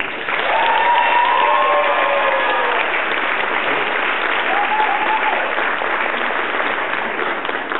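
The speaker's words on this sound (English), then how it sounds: "So let's hear it for Jane Baldwin." Audience applause for a contestant at the Miss Tall International 2007 pageant: a dense, steady wall of clapping from a large crowd that holds for the whole stretch, with faint cheering tones over it and no speech.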